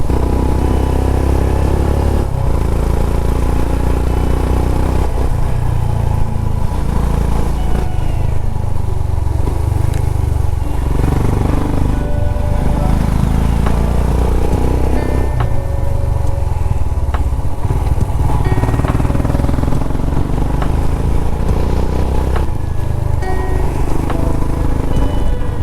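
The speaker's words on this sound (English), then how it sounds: "the exhaust sounds so cool, so satisfying to ride the bike now" A motorcycle's exhaust rumbles loud and continuous while riding on a road to Maidadi Viewpoint near Kalasa, with a steady low drone and shifting throttle swells throughout.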